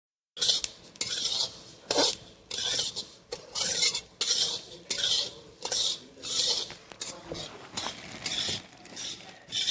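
Coriander seeds being stirred with oil in a pot for a village-style ghati masala, giving repeated scraping, rattling strokes of a spoon against metal at a steady rhythm, close and fairly loud, with no talking.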